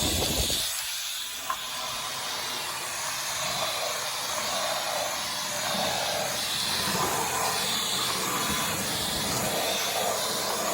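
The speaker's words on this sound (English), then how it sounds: "use the machine as a little handheld for cleaning things like stairs" A steady, loud whirring hiss of a Dyson V12 cordless vacuum used as a handheld on stairs, running continuously close by, with no talking.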